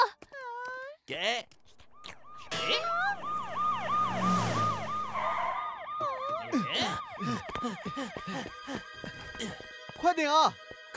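An ambulance siren wails in a dubbed cartoon about a bread barbershop, its rising and falling tones repeating rapidly and loudly under excited character voices and shouting.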